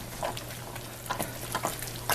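Brown sugar being stirred into caramel apple jam in a pot, heard as a few soft, scattered scraping strokes over a faint low hum, quiet and close with no voices.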